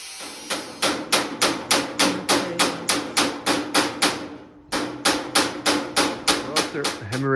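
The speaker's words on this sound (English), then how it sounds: "A little bit of hammering later, we have a bent edge" Rapid, evenly spaced hammer blows bend the edge of sheet metal with sharp metallic clangs, about four per second, pausing briefly midway before resuming.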